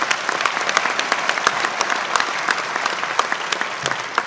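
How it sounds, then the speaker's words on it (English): Audience applause fills a 2017 Texas A&M Athletics Hall of Fame induction ceremony: a steady, loud wash of many hands clapping, sustained and even throughout without speech over it. "a round of applause"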